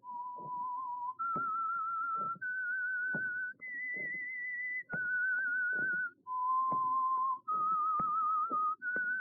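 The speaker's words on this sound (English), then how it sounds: "That whistle is your signal for the Signal Oil program," The signature whistle of The Whistler radio show: a clear, eerie melodic tune of sustained notes stepping up and down, with soft orchestral accents punctuating beneath.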